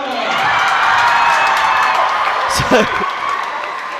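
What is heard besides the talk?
crowd cheering at a netball match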